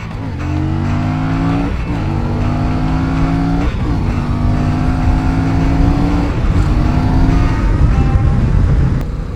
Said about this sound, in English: the cross-plane engine crank makes for this amazing sound